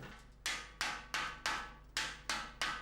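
A coppersmith strikes a copper pot with a boterola, a metal-shaping hammer: six sharp, ringing blows at an even pace, each decaying before the next, close up with no voices.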